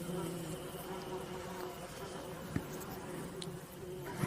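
Flies buzzing in a steady, low drone that holds throughout, with a faint click midway and a slightly louder swell at the end, no talking over it.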